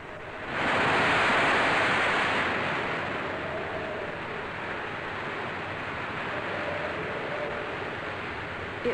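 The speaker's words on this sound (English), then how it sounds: "It was really getting rough and windy now, but Mr. Gil said these were just what they" Rough Atlantic sea and strong wind around an Italia Line ocean liner, the SS Leonardo da Vinci: a broad roar of surf and wind swells loudly after a moment, then settles into a steady, rushing wash.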